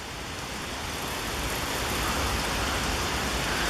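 Spring water running off rock splashes and patters continuously in a dense, hissing wash, steady and fairly close, with no voices.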